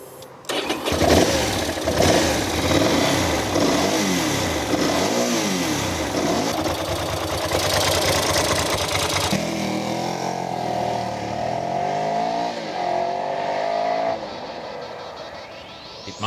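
A Ducati motorcycle's 90-degree V-twin engine fires up and revs hard, loud and close, with repeated rising and falling sweeps of throttle before holding a steadier idle-like drone, no talking over it.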